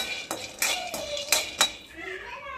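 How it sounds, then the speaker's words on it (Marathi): Peanuts being dry-roasted in a pan in a home kitchen, heard as repeated close clinks and scrapes of a spoon against the metal pan with faint rattling, no talk. "शेंगदाणा भाजून घेत आहे."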